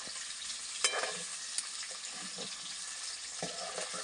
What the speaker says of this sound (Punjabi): ਪਨੀਰ ਨੂੰ ਆਪਾਂ ਫਰਾਈ ਕਰ ਲੈਣੇ ਚੰਗੀ ਤਰ੍ਹਾਂ